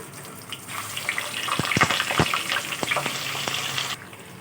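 Chicken pieces dropped into hot oil for a black pepper chicken karahi, a steady close sizzle with clattering stirs and scrapes of the pan through the middle, then an abrupt stop.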